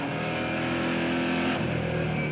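NASCAR Euro race cars at Brands Hatch in England accelerate on a restart, a Chevrolet SS among them, their engines a loud, continuous roar of revving that rises and shifts as the pack pulls away.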